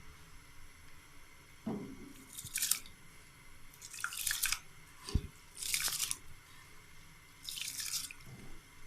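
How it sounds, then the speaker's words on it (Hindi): Rice goes into a pot of steaming hot water for a Chinese-style biryani, heard as several separate quiet splashes and patters, each lasting under a second, with pauses between them and no talk. "पानी हमारा गर्म हो गया और अब हम उसमें चावल डालेंगे।"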